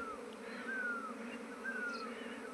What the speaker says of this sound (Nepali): मौरी आयो